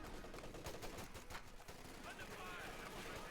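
MG34 machine gun fire from the video game Company of Heroes 2, rapid continuous bursts sounding faint and distant in a dense battle soundscape.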